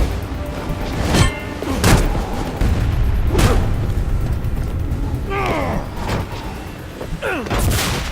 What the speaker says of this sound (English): Mixing in a flashbang with a smoke grenade is a pretty cool idea, but why doesn't it blind him?